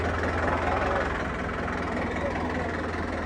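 A New Holland 3630 tractor's diesel engine idles with a steady, low rumble throughout, with no change in pace.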